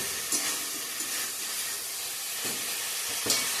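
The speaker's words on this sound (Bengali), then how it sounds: "ভালো করে কষিয়ে নিব।" Chopped banana flower fries with spices in a pan, making a steady soft sizzle and hiss broken by a few sharp scrapes of stirring, close by and with no talking.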